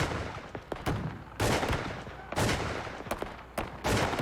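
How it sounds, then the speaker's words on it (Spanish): Gunfire rattles through a shootout reenactment, with repeated bursts of shots and sharp single cracks coming in waves, loud and close. "A medida que el tiroteo continuaba"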